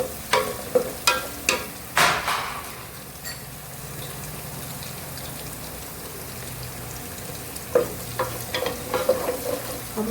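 Potatoes and spinach fry in a pan, giving a steady low sizzle with a few sharp clicks and stirring knocks near the start and again toward the end; no voices.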